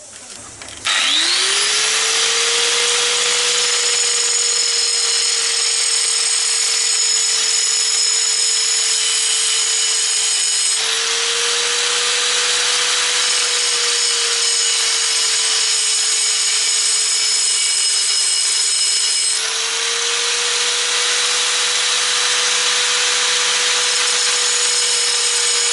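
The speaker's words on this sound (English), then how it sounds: "I'm going to have to grind down the head of this bolt" A power grinder cuts down the head of a bolt on a motorcycle steering damper mount, a steady loud high whine running continuously with slight pitch dips as the tool bears on the metal.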